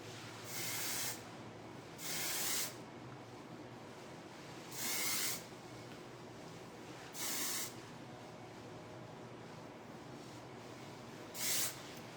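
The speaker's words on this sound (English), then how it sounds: "now we're going in with Move It Dry Texture Spray" Five short bursts of Move It Dry texture spray by Launch, an aerosol, hiss onto hair at irregular intervals, each about a second long, against a quiet background with no talking.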